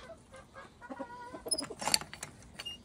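Native chickens clucking around feed on a farm, scattered soft clucks and short calls close by, irregular and moderately quiet, with no talking.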